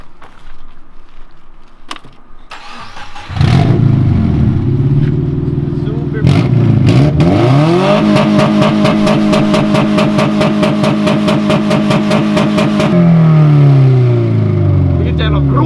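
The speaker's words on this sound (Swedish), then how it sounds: "ni vill höra det magnifika motorljudet, så det är exakt det jag ska bjuda er på" A Subaru Impreza rally car engine cranks and catches after a few sharp clicks, then settles into a loud, close, steady idle before being blipped in rapid rhythmic revs for several seconds and dropping back.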